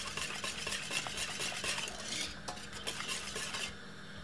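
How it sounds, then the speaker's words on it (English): A spoon stirs plantain porridge with added milk in a pot, giving soft continuous scraping and clinking strokes at low level, with no voices. "give it a stir."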